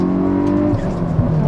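A Hyundai i20N on a race circuit: the engine drones loud and close as the driver lifts off the throttle, with a voice talking over it.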